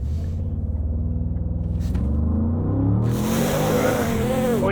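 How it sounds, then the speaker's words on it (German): A Bentley SUV in sport mode launches with launch control: the engine holds a steady low rumble, then surges into a loud, rising roar as it accelerates hard and shifts gears, close and continuous. "wir reißen doch gleich hier mit Launch Control auf"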